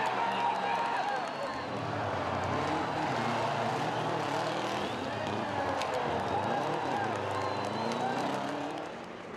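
Rally cars including a Mitsubishi Evo 9 and Subaru Impreza running a tight shakedown stage at a safari rally, engines droning steadily at mid distance under a narrator's voice.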